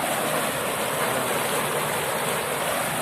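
Water flowing back into a rice paddy channel through a broken bank at a farm canal, a steady, loud, dense rushing wash that continues unbroken throughout with no voices.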